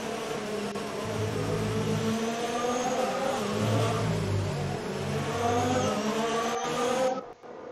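Race cars from the F1 2019 video game at the Belgian Grand Prix, a steady whining engine drone with rising and falling pitch as cars pass under safety car conditions, continuous and fairly loud.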